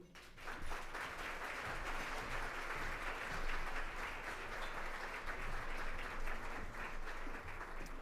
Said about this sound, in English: Once again, nice round of applause for Heidi, please.